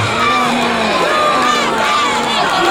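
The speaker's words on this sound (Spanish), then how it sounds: "Fuerte aplauso para Estados Unidos" A loud crowd at an Olympic games ceremony cheers and applauds the United States delegation, with shouting and high excited voices, some childlike, layered over continuous clapping close and dense throughout.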